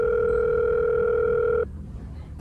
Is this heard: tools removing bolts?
no